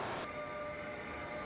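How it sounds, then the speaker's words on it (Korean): Steady rumble of a moving train on the Seoul–Daejeon line, heard from inside the carriage as a continuous, fairly faint drone with a faint tonal hum and no talk. "간신히 취소표를 구해 기차를 탔는데"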